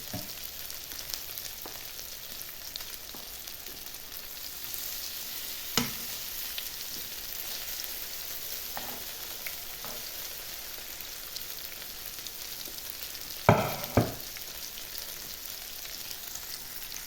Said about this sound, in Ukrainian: Взагалі-то смажиться дуже швидко